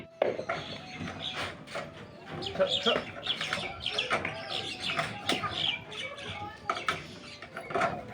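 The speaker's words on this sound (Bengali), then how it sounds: "এটা সানির আর এগুলো হচ্ছে মুরগি" Chickens clucking close by in short, irregular bursts, fairly faint, with scattered wing flaps and background movement.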